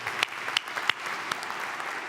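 A conference audience at a pain-medicine plenary session applauds in a steady patter of many hands, with a few sharper individual claps standing out, moderately close.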